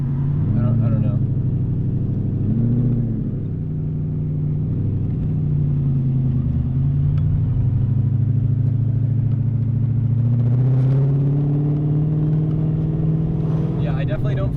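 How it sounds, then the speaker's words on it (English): A BMW E30 fitted with an M60 V8 drones steadily while driving, its low exhaust rumble holding level and swelling slightly as revs rise near the end, with people talking inside the car over it. "That could be the exhaust just echoing on the bottom of the car."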